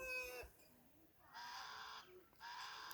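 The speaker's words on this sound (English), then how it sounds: "that they make the sound and more birds come over." Several white-necked birds give loud, harsh calls in two long bursts, the second following the first after a short pause, with a brief quieter call before them.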